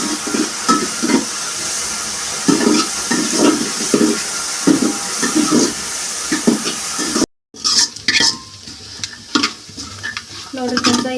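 A ground masala of coconut and poppy seeds fries in ghee in a pan, giving a steady sizzle with repeated scraping stirs. A brief cut is followed by closer, crisper sizzling and clinks.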